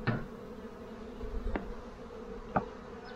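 A faint, steady hum of honeybees at a hive drones quietly throughout, with a few brief clicks and taps over the low buzzing.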